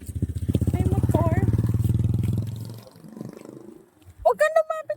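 A motorcycle engine roars loudly past in a Bayawan City street for about two and a half seconds, then fades out, and a voice follows at the end.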